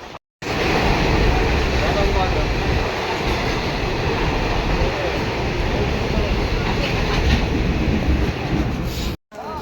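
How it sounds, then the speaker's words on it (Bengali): A moving train rumbles loudly and continuously from inside, a steady, heavy roar with a rattling texture throughout. "ফাইনালি আমাদের এখন ট্রেন ছেড়ে দিয়েছে"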